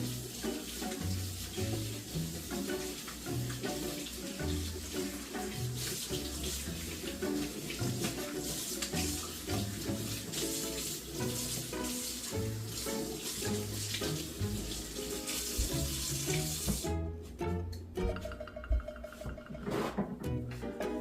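A kitchen tap runs steadily while a measuring cup is washed under it, a continuous close splashing stream that shifts as the cup moves and cuts off near the end.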